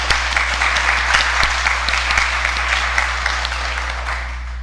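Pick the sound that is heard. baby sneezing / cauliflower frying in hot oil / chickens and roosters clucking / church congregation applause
church congregation applause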